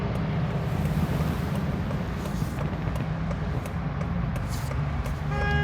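A car engine idles smoothly at 650 RPM, a dense, even low rumble held steadily at close range with a faint whooshing air noise on top and no talking.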